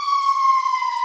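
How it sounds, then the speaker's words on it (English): An emergency vehicle siren on a residential street holds a steady, piercing tone for about a second, loud and alone with no talk over it. "I apologize for all the sirens on my street here."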